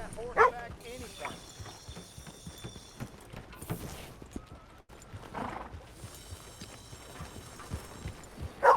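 Horse hooves clip-clop in a steady rhythm beneath background music and a voice in Red Dead Redemption, with a dog barking faintly at moments.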